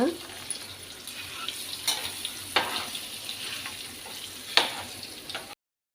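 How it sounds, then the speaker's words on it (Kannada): Egg frying on a tawa, seasoned with chilli powder, turmeric and salt, gives a steady close sizzle with a few sharp scraping clicks of a spatula, all without any talking. "ಸ್ವಲ್ಪ ಅರಶಿನ, ಸ್ವಲ್ಪ ಉಪ್ಪು ಹಾಕ್ಕೊಂಡು 2 ಸೈಡಲ್ಲಿ ಇದನ್ನು ಫ್ರೈ ಮಾಡಬೇಕೀಗ"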